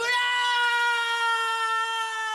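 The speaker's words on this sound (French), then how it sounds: "Des cris. Putain ouais j'entends. C'est des morts vivants quoi." A single sustained, harmonic scream from a zombie creature in the horror video game Little Hope, loud and steady for a couple of seconds before cutting off abruptly.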